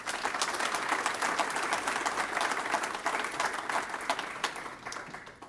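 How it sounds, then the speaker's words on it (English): An audience at a college faculty awards ceremony applauds an absent award recipient, a steady round of clapping from a large room that gradually fades near the end. "Let's honor her with a round of applause."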